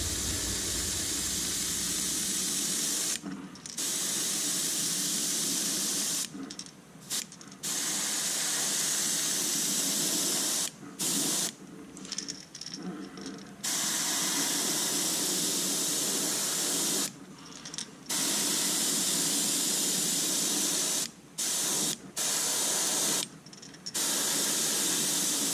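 Color-shifting paint being sprayed on in a second coat, heard as loud, close hissing bursts from a spray can or gun, separated by short pauses of near silence.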